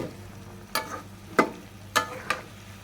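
Chopped onion, ginger and garlic frying in oil make a low steady sizzle punctuated by four distinct scraping strokes of a spatula, close by and with no talking.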